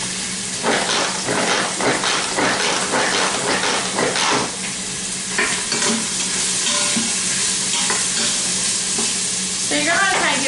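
Jambalaya ingredients fry and are stirred in a quick cooker, giving a loud, close sizzle with bursts of scraping and clattering stirs over a steady hiss.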